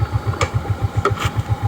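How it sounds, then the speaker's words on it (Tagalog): A motorcycle engine chugs close by in a steady, rapid throbbing rhythm, with a few sharp clicks and knocks over the running engine. "gipalabay man imo tong isa ka motor na nilabay"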